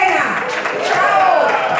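An audience bursts into loud, sustained applause at a Colombian traditional music masters concert held at Santo Tomás, with steady dense clapping filling the room and a voice or two faintly audible underneath.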